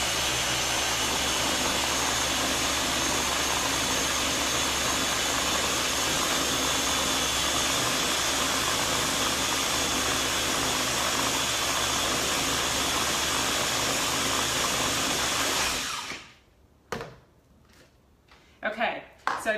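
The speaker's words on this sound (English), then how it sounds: "So I'm going to blend this up. And when I blend it up, it's going to get smooth." Countertop blender whirring at high speed, blending gluten free chocolate avocado pudding, a loud steady roar for about sixteen seconds before cutting off, followed by a few light knocks and clatter.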